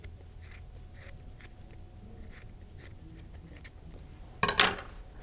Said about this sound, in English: once you get it all on there, you can cut the top so it's even